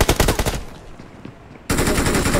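Loud machine gun fire from the BGMI battle royale game: rapid bursts of shots, then a short lull, then a sudden return to sustained automatic fire.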